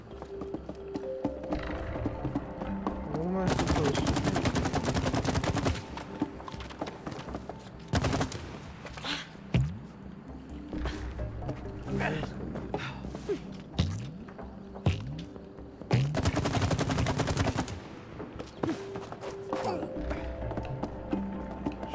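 Bursts of gunfire in the video game It Takes Two, aimed at a paint can: two long, loud dense volleys separated by scattered thuds and impacts, with game sounds and music running underneath.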